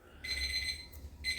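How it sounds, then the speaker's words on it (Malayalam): A clock set as a 15-minute timer sounds its alarm, a near, bright electronic tone in two bursts with a short gap between them. "അലാറം അടിച്ചു."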